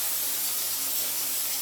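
Baking spray hisses steadily from a can into a pan for gluten-free baking, a close, continuous aerosol spray lasting the whole moment without pause.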